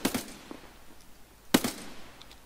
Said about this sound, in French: Aïe, on tire dessus.